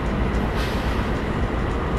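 Locomotive on the Linha do Centro / Ferrovia do Aço route in the Open Rails train simulator, a steady dense rumble of rolling train and engine throughout, close and continuous with no talk.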